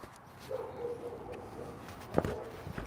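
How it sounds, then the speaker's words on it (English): A dog at an outdoor dog park whimpers in a thin, crying whine at moderate distance, followed by a sharp brief yelp near the end, over light background noise. "That dog sounds like he's like crying"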